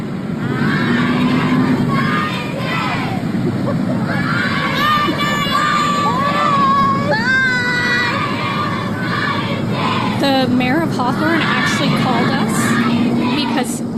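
A crowd of students yelling, shouting and cheering as they leave the Orange Creek, a dense continuous roar of many young voices with shrill whoops rising over it, loud and close throughout.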